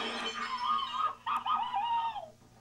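A rooster gives two drawn-out, wavering calls, close and loud, with a brief pause between them and no talking.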